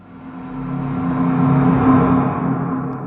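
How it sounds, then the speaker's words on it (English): A Minecraft cave ambience sound of a minecart scraping along stone makes a rough, whirring rumble. It builds gradually and stays loud and close for a few seconds, with no voices. "This sound is another minecart scraping on stone before crashing into the other minecart."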